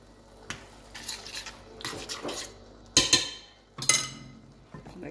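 Cauliflower chakchouka stirred in a pan, with scraping and sharp metallic clinks of utensil against cookware coming in separate bursts, some louder knocks near the end, against a quiet background.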